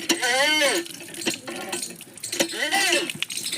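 Food is washed under a running tap, with water splashing and pouring close by while a person talks over it.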